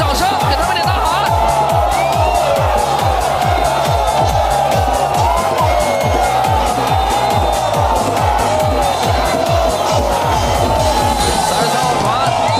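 Spectators at a dragon boat race during the Dragon Boat Festival in Guizhou, China, cheer and applaud in a loud, continuous crowd roar with dense rhythmic clapping and drumming throughout.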